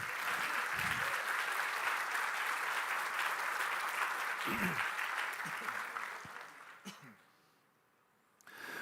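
A church congregation at an evangelistic service claps in sustained, dense applause, loud and even for several seconds before fading away near the end, with a few scattered claps returning at the close.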